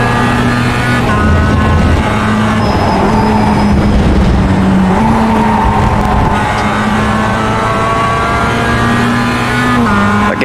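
A Mazda MX-5 lapping Road Atlanta in the iRacing simulator, its engine droning loud and steady with shifting pitch as revs rise and fall through gears and corners, with faint tyre noise, continuous throughout.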